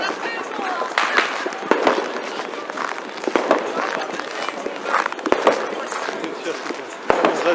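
New Year's fireworks go off in the distance on a snowy night walk, with a steady crackle of pops and occasional sharper bangs, and faint voices underneath.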